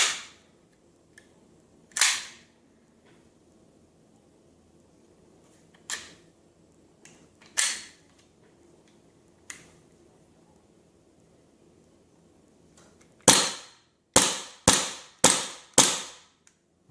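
A VFC/Cybergun M&P9 full-size airsoft pistol firing, with sharp, dry, close snaps: several single shots spaced a few seconds apart, then a quick run of five shots near the end, with quiet between them.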